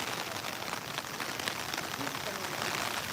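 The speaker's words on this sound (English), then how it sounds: "we end with a torrential downpour as the rain gets stronger and stronger." Torrential rain pours down in Tokyo during a typhoon, a dense, loud, steady hiss of drops drumming on surfaces that never lets up.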